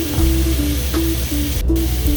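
Food frying in its own oil in a pan, likely while making ginisang toge, gives a steady close sizzle. A low repeating hum runs under it, and a brief hiss cuts in near the end.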